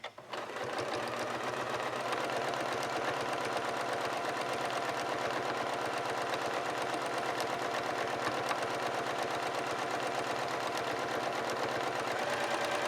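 Sewing machine stitching a quilt with a walking foot attached, a continuous fast mechanical whir and rattle running steadily and loudly for the whole stretch, with no voices over it.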